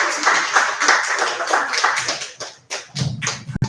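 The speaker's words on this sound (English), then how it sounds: "Clap it up, man." Close, brisk clapping from a small open mic audience, uneven and rapid, with a few heavier hand thumps near the end.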